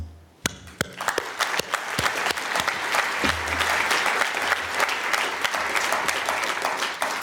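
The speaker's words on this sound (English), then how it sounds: "asking for applause for the organizers" An audience at a conference claps for the organizers: a few sharp opening claps swell into sustained, dense applause that holds steady and thins slightly toward the end.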